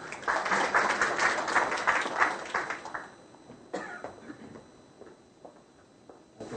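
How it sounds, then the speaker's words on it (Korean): A class of students applauds in a university lecture hall, with dense clapping for about three seconds that thins to scattered, fading claps and a few isolated taps. "앞으로 나오고 박수 한번 쳐주세요."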